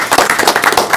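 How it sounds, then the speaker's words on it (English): A round of applause from an audience at a parks and recreation awards presentation, a dense, steady patter of many hands clapping together. "So everybody, round of applause for them and their efforts"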